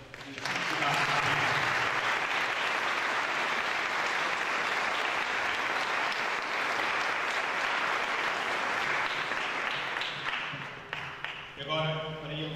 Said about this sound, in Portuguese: eu pedia uma salva de palmas por este gesto de felicidade.